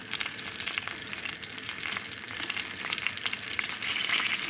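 Steady crackling sizzle of butter frying in a hot pan, continuous and fairly close, with no talking.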